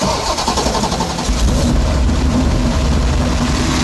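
A big 9.3-litre V8 engine in a high-performance car cranks and fires up, settling into a loud, deep, rumbling idle close by.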